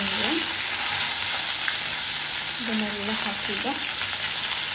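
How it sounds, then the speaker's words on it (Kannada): Green chillies, mint and coriander leaves fry in hot oil, giving a steady close sizzle throughout, with a brief spoken word over it. "ಸ್ವಲ್ಪ ಫ್ರೈ ಮಾಡಬೇಕು ಬಾಡಬೇಕಂತ."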